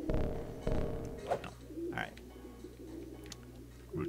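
Pigeons on a rooftop in Jazzpunk give soft, rolling coos, close and repeated in a steady murmuring pattern over a low hum.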